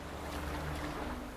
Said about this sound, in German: Und schwimm mal.